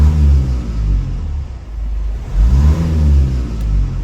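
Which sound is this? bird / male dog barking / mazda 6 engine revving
mazda 6 engine revving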